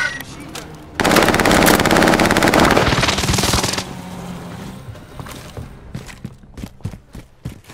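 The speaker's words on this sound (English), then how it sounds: "That's my machine gun." A machine gun fires in the video game Warzone: a long, loud, dense burst that then fades into scattered, sharper single cracks and clicks.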